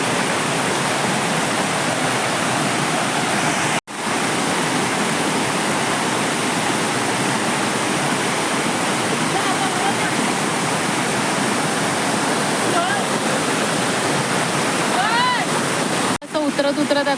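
Village waterfall at Panhali in the Konkan, a loud, continuous rush of falling water heard up close, broken by two brief dropouts.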